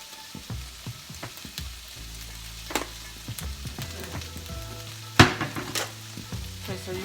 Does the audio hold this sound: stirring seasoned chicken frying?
yes